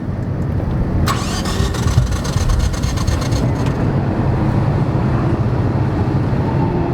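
A Ford Mustang EcoBoost engine at Laguna Seca cranks in a rapid rhythmic churn for a few seconds, then falls back to a steady rumbling engine noise.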